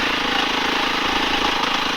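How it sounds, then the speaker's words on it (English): A 2020 Beta 390 RR dirt bike engine chugs steadily uphill at low revs, a loud, constant pulsing drone with no pauses. "this bike is chugging its way up here, no problem at all"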